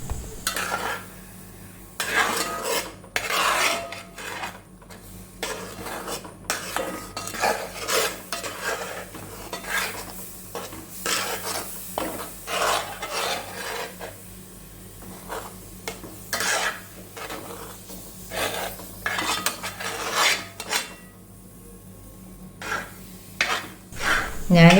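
A spoon scrapes and stirs steadily through a jackfruit mixture as rice flour is worked in, in a metal pan on the heat with a soft sizzle underneath, in repeated close strokes.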